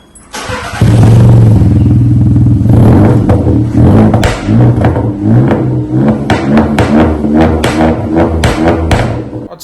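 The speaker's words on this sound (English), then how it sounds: "here's a clip of Ollie's revving up" A car engine starts and revs loudly and close by, rising and falling in repeated throttle bursts over a steady idle rumble.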